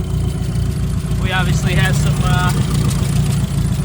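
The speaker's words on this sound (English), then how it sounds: "The whole engine's just shaking." A turbocharged Mazda Miata idles roughly and runs very rich, a steady low, shaky engine rumble running continuously beneath close-up talking.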